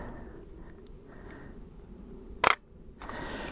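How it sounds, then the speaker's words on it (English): A single sharp mechanical shutter click from a Bronica ETRS medium format film camera snaps once in a quiet outdoor moorland setting in West Cornwall, followed by a soft rustle. "Let's get wound on, finger on shutter button,"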